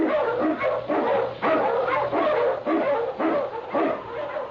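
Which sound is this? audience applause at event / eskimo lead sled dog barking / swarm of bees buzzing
eskimo lead sled dog barking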